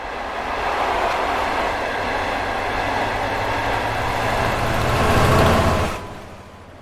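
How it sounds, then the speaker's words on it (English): Passenger train hauled by Class 67 locomotives 67004 leading and 67008 on the rear passes Dovey Junction, a loud, steady rumble and wheel roar that swells near the end before cutting away as it clears. "At its book time of 5 PM, the train passes Dovey Junction with 67004 leading and 67008 on the rear."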